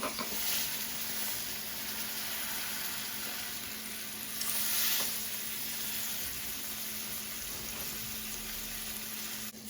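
Steak sears in a hot all-metal Dutch oven, a loud, steady sizzle that swells briefly midway and carries on without a break, no voices over it.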